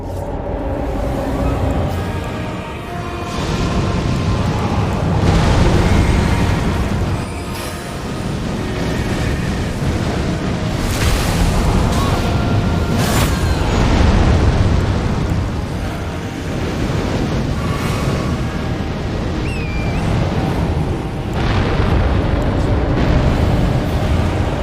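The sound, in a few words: explosions in a video game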